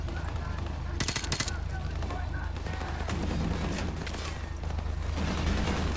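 Gunfire in Call of Duty Modern Warfare, rapid automatic bursts and shots rattling throughout, with a person speaking over the action.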